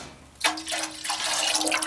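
Fig juice pours steadily into a pot after a brief pause, a continuous splashing stream that carries on to the end.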